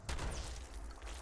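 A shotgun fires once in Fallout 76, a single loud, close boom with a heavy low thump that rolls into a lingering rumble.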